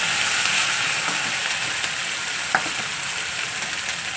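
Crushed garlic sizzles steadily in hot oil, a continuous crackling hiss close up, with one brief clink partway through.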